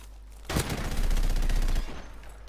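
Automatic gunfire in a Modern Warfare Remastered gun game match: a loud, rapid burst of shots lasting about a second and a half, starting sharply and cutting off abruptly.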